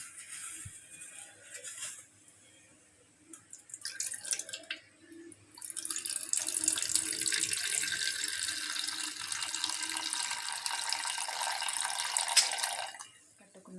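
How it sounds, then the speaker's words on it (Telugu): Water being poured off wheat milk into another bowl: faint drips and small splashes at first, then a steady, bright pouring stream that runs for several seconds before stopping, with no speech. "ఈ వాటర్ని మనం వేరొక గిన్నెలోకి ట్రాన్స్ఫర్ చేసేసుకున్నాం."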